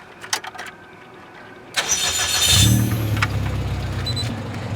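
A Toyota Corolla KE70 drift car with a 4AGE engine cranks over after a few faint knocks, catches loudly and settles into a close, steady idle with a rough, uneven rumble.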